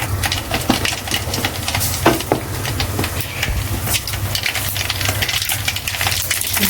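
Mustard seeds go into hot oil left over from frying prawns for prawn pickle, a steady crackling sizzle with scattered sharp pops, close and fairly loud.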